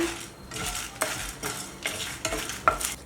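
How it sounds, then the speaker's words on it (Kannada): Dry red chillies with shallots and garlic frying and being stirred in a pan, crackling steadily with several distinct rhythmic scrapes of a spoon against the pan. "ಒಣಮೆಣಸಿನ್ಕಾಯಿ ಎಲ್ಲ ಚೆನ್ನಾಗಿ ಹುರ್ಕೊಳ್ಳೋಣ ನೋಡಿ ಒಣಮೆಣಸಿನ್ಕಾಯಿ ಎಲ್ಲ ಉಬ್ಬಿ ಬರ್ತಾ ಇದೆ"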